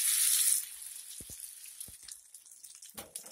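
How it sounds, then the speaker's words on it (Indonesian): A noodle omelette with egg hits hot oil in a pan and gives a bright, hissing sizzle that fades quickly, followed by scattered taps and soft crackles. "Sesudah minyaknya panas baru kita bisa goreng mie ini bersama telur ya."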